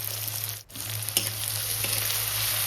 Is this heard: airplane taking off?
no